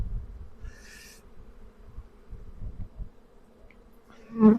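Honeybees in an opened hive hum and buzz nearby in a low, droning texture, with a brief higher whine early on and a louder burst near the end.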